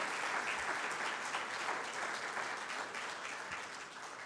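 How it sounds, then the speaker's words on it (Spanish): A church congregation applauds together, a steady dense wash of clapping holding at an even level from start to finish with no voices over it. "Cuántos le dan un aplauso a nuestro Señor Jesucristo"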